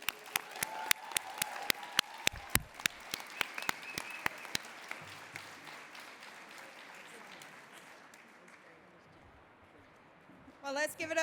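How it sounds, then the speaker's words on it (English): Graduating nursing class of 2022 applauds itself at a registered nurse pinning ceremony, with sharp individual claps standing out over a broad crowd wash that gradually fades, and voices rising near the end. "give yourselves a round of applause"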